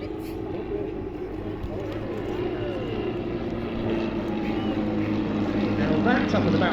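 Turbulent light single-engine aircraft fly an airshow display at East Kirkby, their steady propeller drone filling the air as a commentator talks over the public address.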